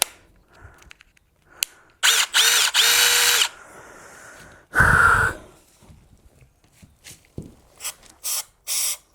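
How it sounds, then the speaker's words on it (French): A power drill bores a small hole during clutch repair work, with several short, loud, close bursts of whirring separated by pauses and quieter handling noises. "si j'essaye de percer, on va percer tout petit"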